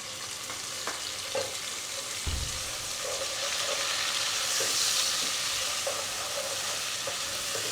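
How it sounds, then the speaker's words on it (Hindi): Browned chicken fries with garlic paste in a pan, giving a dense, constant hiss and crackle with occasional soft knocks of stirring. "ऐसे 2 से 3 मिनट हमने गार्लिक पेस्ट को भून लेना ताकि इसकी स्मेल ख़त्म हो जाए।"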